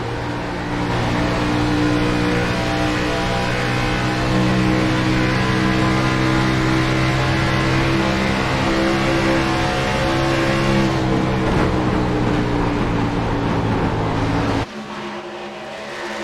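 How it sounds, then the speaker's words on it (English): A high-pitched video-game race car engine at Auto Club Speedway drones loudly at steady revs, shifting pitch slightly before cutting off abruptly near the end, then a quieter engine tone. "They're going to let you guys listen into that engine of his purr."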